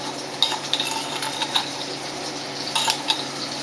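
Steak frying in a pan with pepper and minced garlic, a soft steady sizzle punctuated by a handful of sharp metallic clinks of utensils against cookware.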